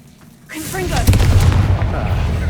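A Confringo fire spell bursts in Hogwarts Legacy after a quiet moment: a sharp, close blast with a heavy low rumble that keeps roaring for over a second, with a voice calling out just before it.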